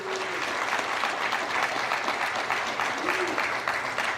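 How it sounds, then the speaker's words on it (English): An audience at a press conference revealing a team name in Charlotte breaks into sustained applause, a dense, even clatter of many hands that stays loud throughout, with faint cheering mixed in. "how about a round of applause for the Upshot League?"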